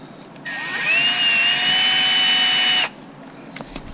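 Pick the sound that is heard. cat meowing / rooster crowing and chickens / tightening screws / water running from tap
tightening screws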